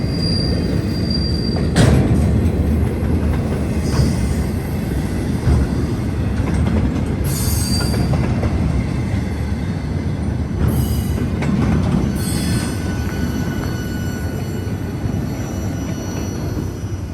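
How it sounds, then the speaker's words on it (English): A long freight train on a short line railroad rolls past close by, loud and steady, with repeated high wheel squeals and flange screeches as the last cars go by; no voices. "Here comes the end of the train."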